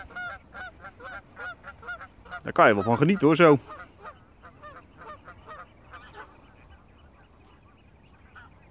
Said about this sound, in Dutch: Prachtig die ganzen.